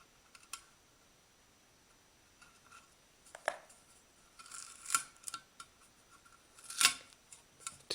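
Scissors make small cuts in duct tape for a butterfly bandage: a few faint, sharp snips and crinkles spaced apart in a quiet room, with no talking.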